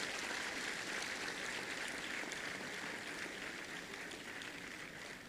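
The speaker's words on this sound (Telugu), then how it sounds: "ఒక్కసారి బిగ్ రౌండ్ ఆఫ్ అప్లాజ్." Steady applause from an audience at the Andhra University centenary celebration, honouring the fine arts student who designed the centenary logo; a dense, even wash of clapping that fades slightly toward the end, with no voices over it.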